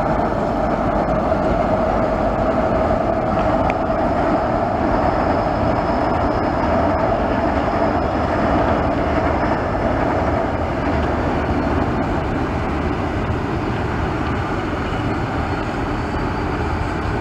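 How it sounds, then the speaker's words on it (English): A Waratah train and 81 class locomotives pass on a rail bridge, a loud, steady rumble and roar that continues unbroken throughout. "Here comes the Waratah and the 81s."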